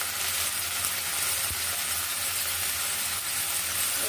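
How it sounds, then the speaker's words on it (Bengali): Spices for mustard hilsa sauté in a hot pan, giving off a steady broadband sizzle with one faint clink partway through and no talking. "এটা একটু কষিয়ে নেব।"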